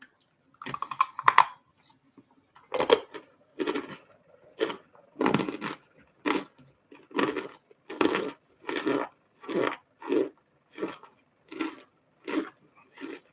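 Crunchy snacks being chewed close up in a steady series of about a dozen crisp crunching bites, each a short loud burst with brief pauses between, with no talking.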